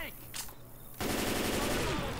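Heavy automatic gunfire in the zombie co-op game Left 4 Dead 2. It begins with a few sharp shots, then becomes a loud, dense, continuous burst of rapid fire from about the one-second mark to the end.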